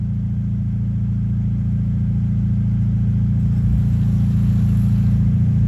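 A V8-swapped Toyota Corolla with a rear-mounted radiator, stuck off-road on grass, holds a loud, steady engine rev with a deep low rumble, close and sustained throughout without a break.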